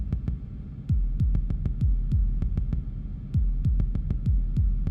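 Heartbeat-like kick drums from a modular synth patch in an industrial hardcore techno setup, loud deep thumps in paired beats repeating steadily, with no talk.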